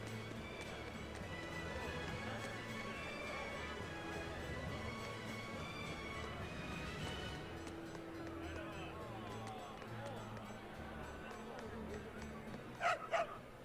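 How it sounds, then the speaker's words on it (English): A dog in the video game Tales of Berseria gives a short burst of yips near the end, over a bed of soft game music and ambience. "What's this dog saying?"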